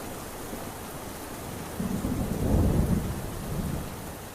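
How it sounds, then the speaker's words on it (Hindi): Heavy rain pours steadily while a low roll of thunder swells up midway and rumbles on before easing, with no voices over the storm. "इतनी तेज बारिश में तो ऐसे क्यों भीग रहा है?"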